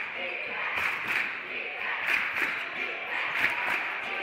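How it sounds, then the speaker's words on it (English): High school boys basketball crowd in a Class 2A region game chanting defense, a rhythmic mass of voices rising and falling in repeated beats over the gym's echoing din, with an announcer talking over it. "little defense chant here"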